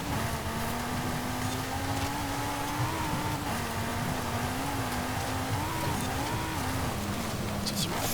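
2018 Audi TT RS engine in Forza Horizon 5, a steady droning inline-five note that rises and dips with throttle through corners, wind rushing underneath and a voice talking over it.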